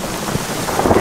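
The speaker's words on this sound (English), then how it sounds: "We've got, seems like hail coming down." Hail pelts down hard on a campsite during a sudden storm, a loud, dense, continuous drumming and clatter with a roaring, rain-like wash and no voices.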